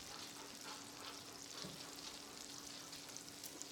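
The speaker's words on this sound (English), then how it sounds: "I am going to saute up some onions and mushrooms, starting off with the mushrooms in the pan drippings" Mushrooms sautéing in pan drippings in a cast iron skillet make a soft, continuous frying crackle, faint and even throughout, with a slight bump of stirring partway through.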